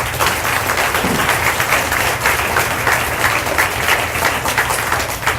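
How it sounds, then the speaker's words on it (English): Loud, close audience applause for teachers at a school graduation ceremony, a thick continuous clatter of many hands sustained evenly from start to finish. "How about a round of applause for our teachers?"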